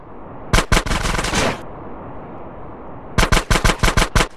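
Automatic gunfire in GTA San Andreas shooting out a sewer gate, loud and close: a short burst of rapid shots, a pause, then another run of about ten evenly spaced shots, with no talking.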